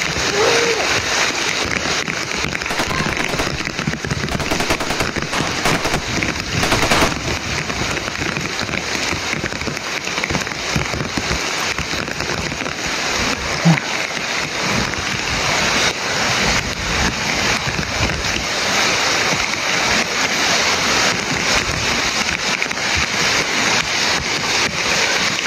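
Heavy rain pours down steadily and loudly for the whole stretch, a dense hiss of drops splashing on surfaces with no let-up, and a faint voice breaks through briefly.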